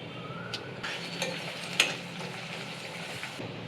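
Curry leaves and a pinch of turmeric fry in hot oil, a steady close sizzle with a few louder crackles and stirring clinks scattered through.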